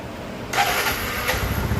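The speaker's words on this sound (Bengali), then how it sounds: "গাড়িটা আপনাদেরকে স্টার্ট করে দেখাবো" A Bajaj Platina 102cc motorcycle with about 18,000 km on it fires up on its self-starter after a half-second of quiet, then settles into a steady, fairly quiet idle close by.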